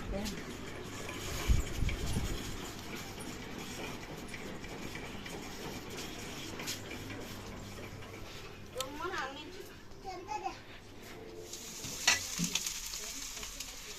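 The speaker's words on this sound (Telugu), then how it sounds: "లంచ్ బాక్స్లోకి ఫ్రైడ్ రైస్ చేస్తున్నాను" Fried rice being stirred and fried in a pan for a school lunch box, a soft steady sizzle with occasional scrapes and clatter, faint and close.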